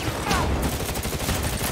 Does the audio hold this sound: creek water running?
no